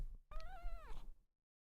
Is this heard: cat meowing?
yes